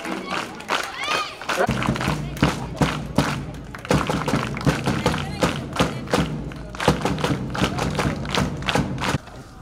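Students and teachers clap together at a government school shoe distribution event in Yadagirigutta, with rhythmic bursts of claps and thumps under a steady murmur of crowd voices.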